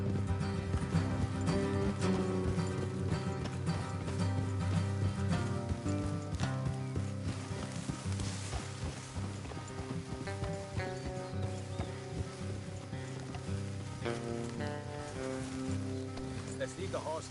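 Horse hooves clip-clop steadily in Red Dead Redemption 2, riding along under a continuous music score and game ambience, with character voices talking over parts of it.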